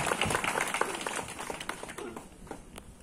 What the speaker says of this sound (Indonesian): Berikan tepuk tangan Bapak Ibu.